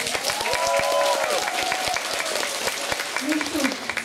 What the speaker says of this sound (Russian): Аплодисменты Лизе!